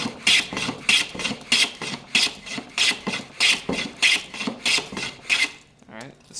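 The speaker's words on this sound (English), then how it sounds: "So I know this board's not very square, so I gotta square it up first." Hand plane squaring up a wooden board, about a dozen rhythmic rasping strokes in steady succession, close and fairly loud, ending with a quieter scrape.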